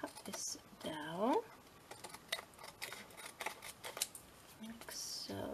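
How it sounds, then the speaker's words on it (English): Scissors cut card for handmade journal cards, producing sharp close snips and crisp clicks scattered through the stretch, with a brief squeak and some quiet handling in between. "I want to chop off all those little bits like that"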